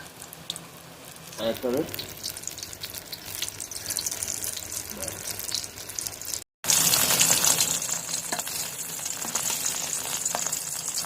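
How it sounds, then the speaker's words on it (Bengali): Potato pakoras drop into hot oil in a home kitchen and fry with a steady bubbling sizzle. The sizzle surges louder after a brief break and carries on, with occasional clatter from utensils. "তেলটা গরম হয়ে গেছে, আলুর পকোড়াগুলো তেলের মধ্যে ছেড়ে দিচ্ছি"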